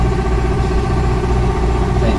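An old Chevrolet Blazer engine idles smoothly and steadily up close, a continuous low rumble with no changes in pace throughout.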